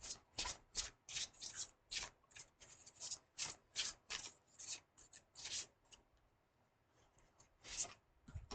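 Tarot cards shuffled and handled near and quiet, a rapid run of crisp riffling bursts followed by a brief lull and a final rustle as cards are drawn.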